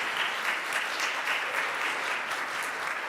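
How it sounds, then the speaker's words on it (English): An audience applauds a speaker at the end of a talk on relationship conflict resolution, a steady dense clapping that holds at an even level for a few seconds with no talk over it. "Round of applause, please."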